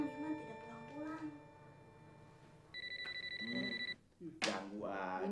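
A telephone rings with a steady electronic trill for about a second, cutting in between voices talking quietly nearby.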